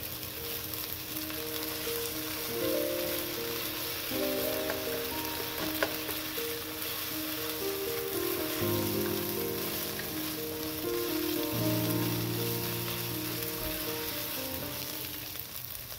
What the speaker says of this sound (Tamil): இப்போ இஞ்சி பூண்டு பேஸ்ட்டை சேர்த்து ஒரு 2 நிமிஷம் வதக்கிக்கலாம்.